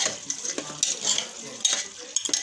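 Beef nihari with yogurt being stirred in a pot, brief close scrapes and clinks of a spoon against metal over a soft simmer, no talk.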